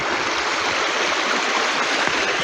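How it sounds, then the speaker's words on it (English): Crowden Brook in the Peak District flows in a steady, close rush of water, a constant broadband babble with no voices. "And the water's flowing."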